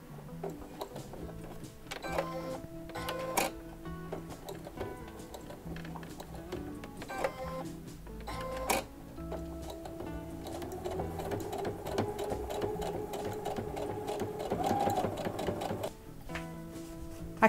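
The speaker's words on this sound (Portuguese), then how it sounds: "Agora a gente vai à máquina e fecha essa parte, passa uma costura reta." Sewing machine running a straight seam along a fabric strip, with scattered clicks and short runs of stitching early on, then a steady, fast mechanical patter building toward the end.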